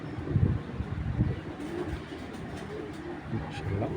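Sapchila pigeons, an old breed of tournament flying pigeon, coo nearby with low throaty pulses, strongest in the first second and a half, then softer over faint background noise.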